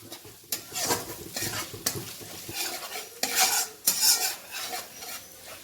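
Ginger paste, turmeric, cumin, coriander and Kashmiri chilli powder fry in a pan while a metal spoon stirs them, giving repeated scraping strokes and clanks over a constant sizzle, up close.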